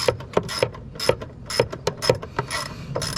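A ratchet clicks steadily while loosening 10mm starter bolts on a Lexus ES330, quick close metallic ticks in regular strokes with brief pauses between swings.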